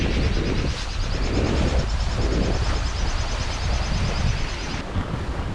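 Wind rushes steadily across the microphone aboard a sailboat on the Ionian Sea, a close, continuous hiss and buffet with gentle swells in strength and no voices.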